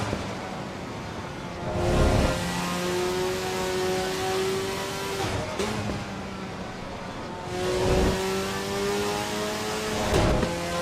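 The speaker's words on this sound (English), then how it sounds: "I do wonder about the engine on this car. I can't work out whether it sounds like really strong or quite thin in a way." A race car engine in the racing game AC Evo revs up and down in repeated surges, the pitch climbing and dropping through the gears, loud and continuous with no voices.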